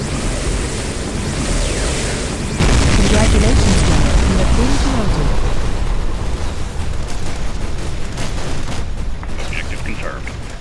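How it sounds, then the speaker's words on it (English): A particle cannon fires in the Command & Conquer Generals video game, a loud, sustained blast that swells suddenly partway through and rumbles on with crackling, explosive noise before thinning out near the end. "Particle cannon activated."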